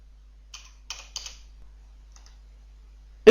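Typing on a computer keyboard: a few isolated key clicks in a quiet room, two quick pairs of taps early on, a faint tap later, then a louder knock at the very end.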